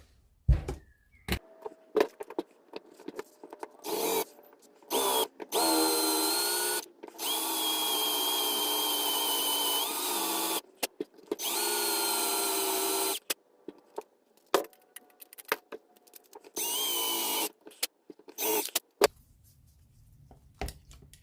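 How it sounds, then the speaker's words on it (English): A power drill drills out a rivet on a Shimano Ultegra 6870 rear derailleur, whining in repeated bursts of a few seconds each, separated by short pauses, loud and close with a high grinding edge. "That one here we need to drill out."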